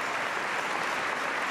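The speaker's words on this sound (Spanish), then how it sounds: "Clap your hands and praise God." A church congregation clapping their hands in praise during a Mass, a dense, steady wash of applause from many people, loud and continuous across the whole short stretch, with no voices on top.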